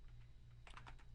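A short burst of quick keystrokes on a computer keyboard, close and fairly quiet over a low steady hum, with no talking.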